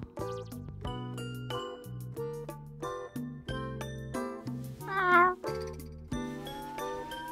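A cat gives a series of short meows indoors, close and fairly soft, with small tinkling sounds between them and one longer, louder drawn-out meow near the end.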